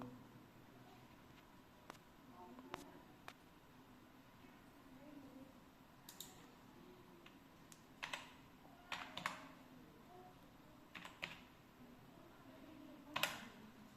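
Sparse, quiet keyboard key presses are entered one at a time as an OTP is typed for an Aadhaar card download, with small clusters of clicks over a faint room hum.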